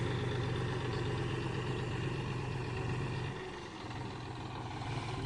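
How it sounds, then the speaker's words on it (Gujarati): A farm tractor's engine runs steadily at a low drone as it pulls away, with a brief dip in the rumble partway through; no one speaks. "હાલો આપણું ટ્રેક્ટર નીકળી ગયું."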